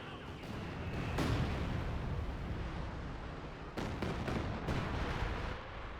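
Artillery barrage in a real-time strategy game match, a dense continuous rumble of distant blasts with a few sharper impacts breaking through, steady and loud throughout.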